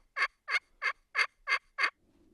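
Six short, evenly spaced gobbles from wild turkeys ring out clearly against a quiet background in northern Idaho, followed by a faint low rustle.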